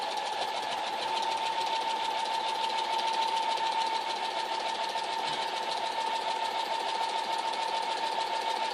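Sewing machine doing free-motion quilting on a quilt, a rapid continuous mechanical chatter of stitching running steadily and fairly loud throughout with no pauses or voices.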